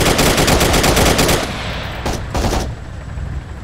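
Loud, rapid automatic gunfire from a video game bank robbery rattles in a dense burst, then breaks off into a couple of shorter volleys and fading echo.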